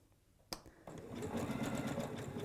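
A sewing machine stitching a button on runs in a steady, close mechanical whir after a sharp click, with no talk over it.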